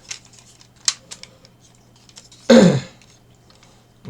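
Plastic parts of a Hello Carbot Starex Dandy transforming toy robot car being folded out, a few light clicks followed by one loud, close scraping snap lasting about half a second.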